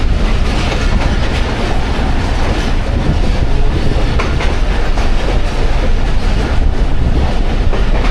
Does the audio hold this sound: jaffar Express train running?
yes